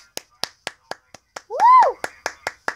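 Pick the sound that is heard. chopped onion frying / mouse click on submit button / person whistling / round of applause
round of applause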